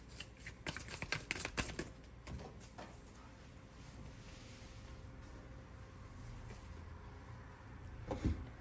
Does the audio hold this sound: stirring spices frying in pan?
no